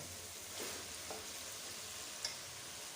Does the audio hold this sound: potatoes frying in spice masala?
yes